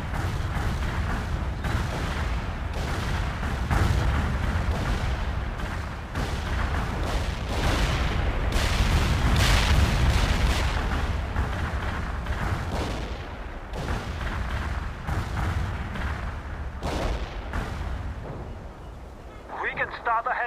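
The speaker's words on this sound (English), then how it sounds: "We can start a heavy barrage." An artillery barrage in the real-time strategy game World in Conflict, Soviet Assault campaign, with heavy booming impacts rolling on continuously under a deep battlefield rumble while radio voices speak over it.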